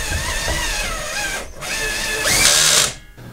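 Power tool driving in a lower shock absorber mounting bolt on a car, a loud continuous whirring drill drone with pitch wobbles, a brief dip near the middle, then a harsher burst before cutting off.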